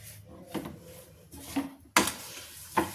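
Lemon pickle being stirred in a metal pot, with a spoon scraping and clinking against the sides in a few separate strokes, close by and moderately loud, with no talking.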